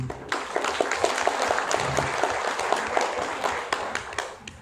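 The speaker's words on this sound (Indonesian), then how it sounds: "Untuk itu kita aplaus untuk kita semua." A training-session audience applauds steadily throughout, a dense sustained wash of clapping with a few sharper individual claps standing out near the front.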